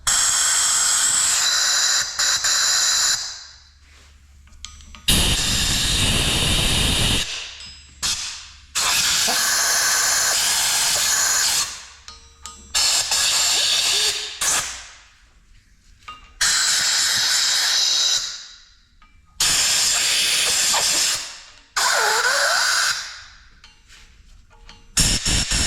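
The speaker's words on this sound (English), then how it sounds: "I'm just blowing out all the journals." Compressed air blasts through the journals of a Detroit 4-53T diesel crankshaft in repeated loud hissing bursts of a few seconds each, separated by short silences, with a clatter in one burst.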